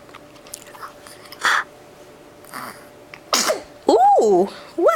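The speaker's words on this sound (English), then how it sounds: "Ooh, what a sneeze." A person gives a single sharp sneeze, then a speaker talks in a lively, sing-song voice, with other faint mouth and chewing sounds in a quiet room.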